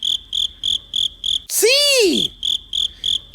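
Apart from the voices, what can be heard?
cricket chirping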